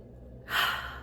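One deep breath drawn in, a short close airy inhale that rises sharply after a quiet moment and fades slightly, with no talking.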